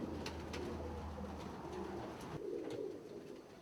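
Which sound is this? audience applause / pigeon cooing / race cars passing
pigeon cooing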